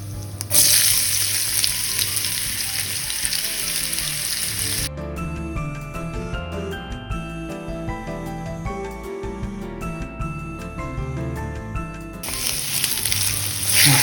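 Potatoes frying in a pan with celery seeds and kalo jeera for a Bengali dish, a steady loud sizzle that shifts midway as the potatoes are tossed in and stirred, then settles back into an even crackling fry.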